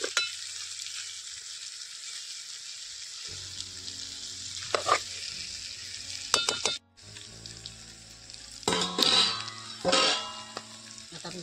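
Stuffed eggplants fry in oil in a pan in a Konkan village kitchen, giving a steady close sizzle with a few sharper crackling bursts and a brief lull partway through. No one speaks.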